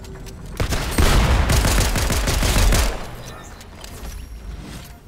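Video game gunfire in Fortnite Chapter 4 squad play: a dense, loud stretch of rapid shots and impacts lasting about two seconds, then quieter game ambience with faint distant pops.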